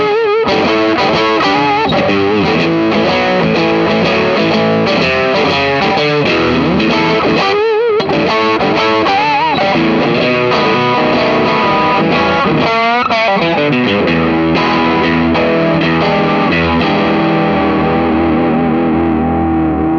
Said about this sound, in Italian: Ecco il suono del cono nel suo cabinet.